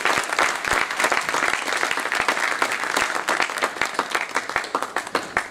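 Audience applause welcoming the chief guest, an assistant commissioner, at a National Association for the Blind event in Chandigarh: dense, steady clapping from a crowd with sharp individual claps standing out, lasting throughout.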